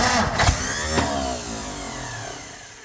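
A 1959 Ford F-100 4x4 pickup, run after sitting for 30 years, gives a sharp mechanical clunk as it cranks, then a rough engine drone that holds and slowly fades, with no voices.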